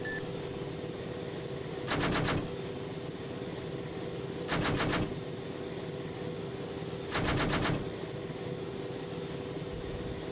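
Gunfire in the military game ARMA 3, three short rapid bursts of automatic fire spaced a few seconds apart over a steady engine drone.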